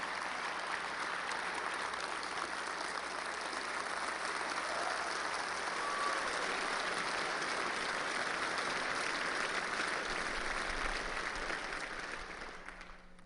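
Audience applause welcoming a young student speaker, a steady dense wash of clapping that holds for about thirteen seconds before tapering off at the end.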